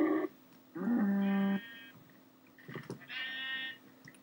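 Sheep in the video game Minecraft bleat in two clear, wavering calls, a short one and then a longer one a couple of seconds apart. Smaller clicks fall between them over a quiet background, and no one talks.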